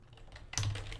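Clicks of a computer keyboard while code is edited, a few faint taps followed by a quick, louder cluster of keystrokes, close by.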